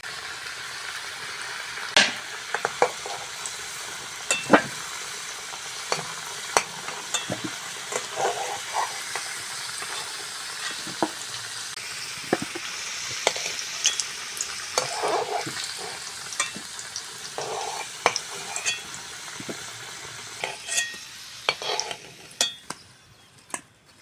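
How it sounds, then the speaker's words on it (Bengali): Potatoes frying in oil until reddish-brown for aloo kosha give a steady, close sizzle, broken by frequent clinks and scrapes of a spatula stirring in the pan, with no voices. "আলুগুলো বেশ লাল লাল করে ভেজে নিয়েছি"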